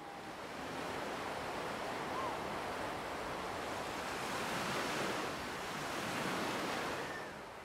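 Surf washes steadily onto a beach in Algeria, a soft, continuous roar of breaking waves with gentle swells in intensity, heard alone at a moderate distance.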